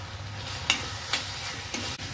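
Prawns with chilli, coriander and cumin powders sauté in a pan, a steady close sizzle broken by a few scrapes and taps of the spoon as they are stirred, with no talk.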